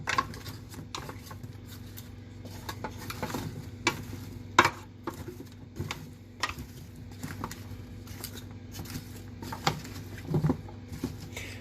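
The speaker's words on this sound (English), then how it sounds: "So just give that a good toss." Food caramelizing with a sweetening sauce and salt, tossed and stirred in a pan: soft sizzling under a run of irregular scrapes and light clanks from the utensil and pan, close, with no talking.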